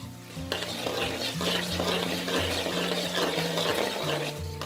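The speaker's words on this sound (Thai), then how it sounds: "ทอดค่ะพริกให้เหลืองค่ะเห็นไหมสีเริ่มเปลี่ยนนะ" Oil sizzles and crackles steadily as chili peppers fry in a pan, with occasional stirring clinks and a low hum underneath.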